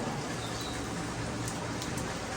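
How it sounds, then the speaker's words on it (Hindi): Heavy rain pouring down outdoors, a dense, steady hiss of drops hitting surfaces, continuous and fairly close with no voices. "बारिश तेज़ लगी हुई है"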